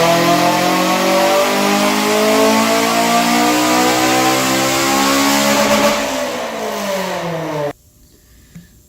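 A car's engine revs hard and steadily on a dynamometer during a baseline pull, a loud sustained roar with rising harmonics that eases slightly near the end, then cuts off abruptly to near silence.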